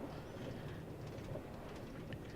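Minecraft minecarts linked into a train rolling along rails, a steady low rumble with soft clicking, continuous and moderately close.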